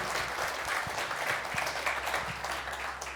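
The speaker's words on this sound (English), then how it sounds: "And a round of applause, I think, for Brad and right everybody that's been up there." Audience at a National Corvette Museum LT6 engine build presentation applauds, a steady, dense burst of clapping from a room full of people.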